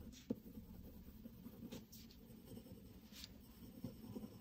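A coloured pencil scratches across paper in quick zigzag shading strokes, soft and close, with faint intermittent scraping bursts and no speech.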